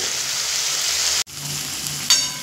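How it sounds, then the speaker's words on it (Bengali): Masala spices with Kashmiri chilli powder fry in a pan, a steady hissing sizzle that cuts out briefly midway, then resumes with a louder burst of crackle toward the end. "দিয়ে আবারও খুব সুন্দর করে মশলা কষিয়ে নেব"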